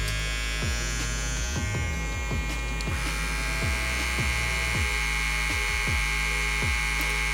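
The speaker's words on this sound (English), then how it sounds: "So you'll hear it compared to the actual Wahl trimmer." A cordless, lithium-ion Wahl G Whiz hair trimmer buzzes steadily up close, a constant electric whir with a high whine, while faint rhythmic clicks tick underneath.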